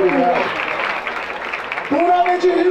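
Crowd at a street rap battle claps and cheers in a steady, lively burst, with an emcee's voice heard over the noise at the start and end.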